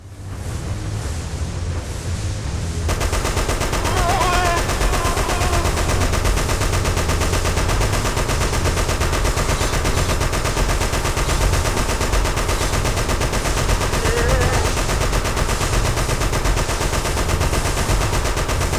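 Relentless rapid gunfire rattles on without pause in Siren 2 while fighting Otoshigo, loud and dense, layered over a constant rumbling game soundtrack with no voices.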